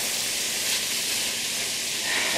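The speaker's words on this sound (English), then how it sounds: "this is still sizzling" Turkey and vegetable fried rice sizzles steadily in a hot pan, a continuous close hiss of frying with no talking over it.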